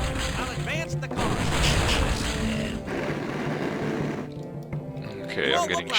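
Cannon fire in the video game The Iron Plague, repeated heavy booms and battle noise layered under continuous talking throughout.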